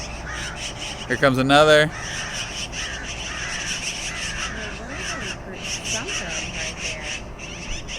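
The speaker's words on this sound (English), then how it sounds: "Look at this crow. This crow is pissed." Crows cawing loudly and repeatedly during a fight with magpies on a back porch, harsh calls in quick succession throughout, with someone talking over them.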